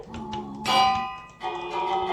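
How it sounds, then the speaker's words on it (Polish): A bell in the video game Minecraft, rung twice: two bright metallic strikes, each ringing on with a sustained tone over a quiet background, with no talking. "I ja mam ten dzwonek, to będzie mi taki dzwonek do domu"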